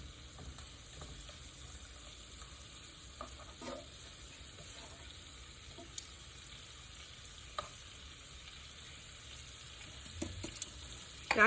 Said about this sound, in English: Shrimp don't take long to cook at all.